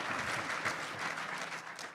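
A lecture audience breaks into applause for a pledge to bring a declaration into provincial law, a fairly soft, continuous spread of clapping from many hands.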